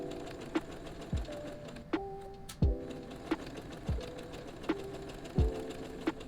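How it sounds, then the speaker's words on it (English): A sewing machine stitching quilt fabric produces short, close mechanical whirring bursts with clicks, starting and stopping irregularly, with no talking. "I'm stitching just a hair to the left of my seam"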